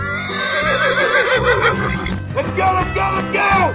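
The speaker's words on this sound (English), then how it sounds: "Horse." A horse whinnies in a children's animal guessing game, with a music-like tonal background and harmonic calls rising and falling through the clip.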